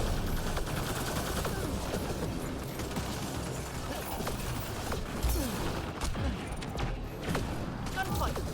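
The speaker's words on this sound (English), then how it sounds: "Enemies are firing." Steady, close rattling gunfire and mechanical clatter during a Mass Effect Andromeda multiplayer match with a Salarian Operator, continuous and fairly quiet, with in-game voices calling out over the fight.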